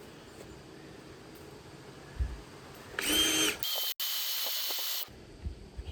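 Power drill boring with a failing bit on a Woods trailer rebuild, a loud close whine lasting about two seconds, cut by a brief stop and resumed, after low background noise.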